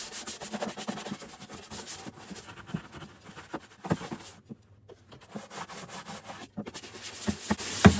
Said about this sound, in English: So just gonna scrub it out a little bit.